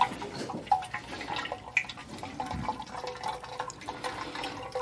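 Thick tiramisu ice cream mixture pours steadily into an ice cream maker, a continuous liquid splashing and trickling stream with small drips, close and moderately loud with no talking.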